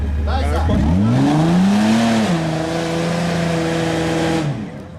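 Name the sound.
car engine revving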